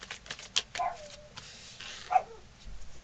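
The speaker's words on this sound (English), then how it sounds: "I do have dogs. They do bark. They bark at everything." Pet dogs at home give a few scattered barks and yips, moderately quiet, with brief gaps between the calls.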